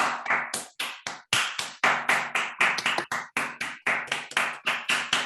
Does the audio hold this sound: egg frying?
no